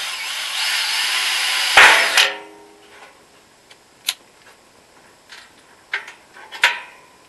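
A power drill whines loudly for about two seconds while drilling a pilot hole in a metal washing machine drum, then stops; a few sharp clicks and taps of metal follow in the quiet.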